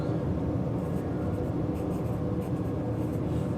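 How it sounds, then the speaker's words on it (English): Pen scratching steadily across paper while a chemistry term is written out by hand, a continuous close scritching texture with no pauses and no talk. "I'll just write the full name out here."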